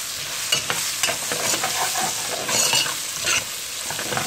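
Red onion sizzles steadily in a pan while a utensil stirs it, giving irregular scraping and clinking strokes over a continuous fry hiss; no talking.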